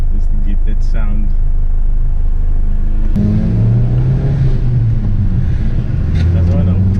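A Toyota Corolla AE111 engine and intake drone loudly and steadily inside a road tunnel, then swell into a deeper, louder roar after a downshift partway through, with a voice heard at times.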